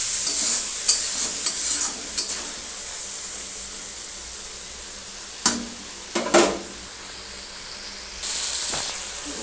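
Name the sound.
frying and stirring spice paste (masala)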